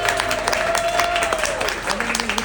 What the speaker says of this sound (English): You can give yourselves a round of applause.